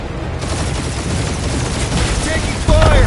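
Sustained gunfire rattles through a Guardians of the Galaxy video game firefight, a dense, loud barrage running the whole stretch and growing heavier near the end, with game sound effects layered over it.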